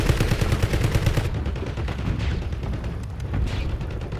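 Rapid automatic gunfire in the Warzone video game, a dense burst of close, loud repeated shots for over a second, followed by scattered distant shots and rumbling booms.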